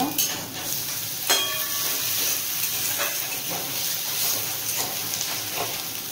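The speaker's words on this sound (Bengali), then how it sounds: "পেঁয়াজের মধ্যে অল্প একটু নুন দিয়ে দেব। ভেজে নেব।" Onions frying with a little salt in a pan for mutton dakbungalow, a constant bright sizzle and hiss broken by occasional stirring clicks, close up with no talking.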